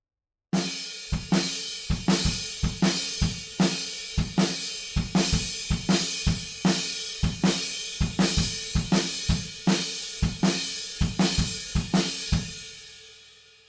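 Drums play a pattern with a snare on all four beats and kick drum filling the gaps, giving a steady, evenly spaced run of punchy hits with nothing else playing, ringing out after the last stroke.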